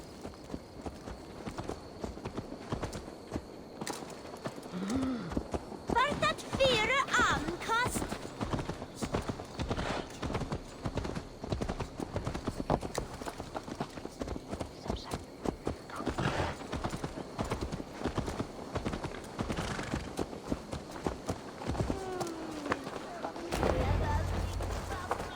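Horse hooves clip-clop at a steady walking rhythm in the video game Assassin's Creed Valhalla while voices talk over them, with a brief whinny partway through.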